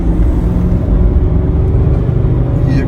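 A Range Rover Vogue 3.6 diesel accelerating on a road, heard from inside as a loud, steady low engine drone with road rumble.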